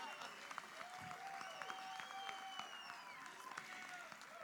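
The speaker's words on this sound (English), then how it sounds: "Please join again in a round of applause for AM3 Derek Lubinsky." An audience at a military service awards ceremony applauds steadily, a sustained wash of clapping with scattered cheers and whistles.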